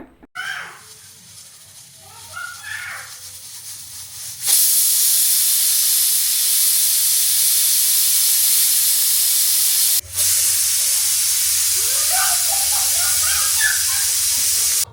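A pressure cooker hisses out steam while biriyani cooks. Faint voices come first, then a loud, steady jet of steam cuts in and runs on, with a brief break near the end before it resumes.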